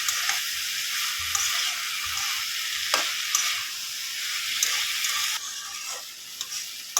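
Masala for masoor dal frying in a pan, a dense steady sizzle with a few spatula knocks and scrapes, close and fairly loud, without speech.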